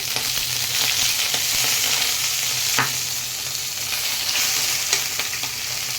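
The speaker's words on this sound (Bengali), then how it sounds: "এই তেলের মধ্যে কালো জিরা ফোড়ন দিয়ে দিলাম দিয়ে দিলাম দুটো শুকনো লঙ্কা" Black cumin seeds and two dried red chillies sizzle in hot oil, a dense, steady crackling hiss close by with a few sharper pops, no voices.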